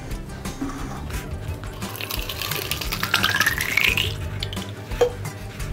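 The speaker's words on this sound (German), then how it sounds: "Und danach füllen wir sie mit Wasser." Tap water runs and splashes into a cut-open plastic bottle, a steady close pouring hiss with rising filling pitch toward the end, no voices.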